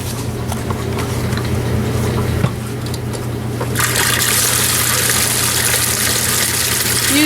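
Warm water runs into a bowl for bread dough: a steady trickle under a low hum, then a louder, fuller gush of pouring water for the last few seconds.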